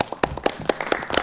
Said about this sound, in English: I want to give all of you a big round of applause for coming together as a community.